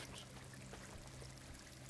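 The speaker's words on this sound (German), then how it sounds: "ich habe ja ganz viel Wasser, was hier runter tropft" Water streams and trickles down in a cave area of the video game Star Wars Jedi: Fallen Order, a steady faint pouring wash with a low hum beneath, no voices.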